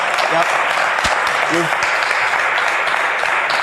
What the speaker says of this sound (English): Let's have another big round of applause for both of them.